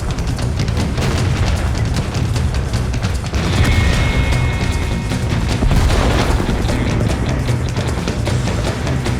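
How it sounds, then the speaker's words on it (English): Tank artillery lobs shells in a video game, producing heavy, continuous booming blasts and rumbling over mechanical clatter, loud and dense throughout with no talking. "Wodan gets into position and starts lobbing shells."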